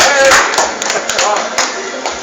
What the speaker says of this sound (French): Applaudissez Gaël.